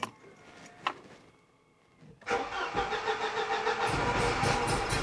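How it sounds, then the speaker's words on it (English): Mercedes-Benz S124 with an M102 engine that had a rough idle, cranked after faint clicks and a pause, then catching and settling into a rough, uneven idle close by. "Let's start it up and see if it makes a difference."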